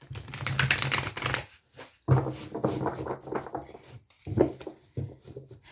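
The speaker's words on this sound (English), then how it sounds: "So I'm going to shuffle this deck one more time." A deck of tarot cards being shuffled in quick riffling bursts separated by short pauses, close and fairly quiet, with no talking.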